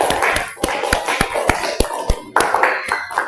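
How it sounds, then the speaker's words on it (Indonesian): Students in a classroom clap together in a quick, loud, fairly rhythmic burst of sharp hand claps, close and distinct, with some overlapping applause between beats. "Tepuk tangan dulu untuk kita semua."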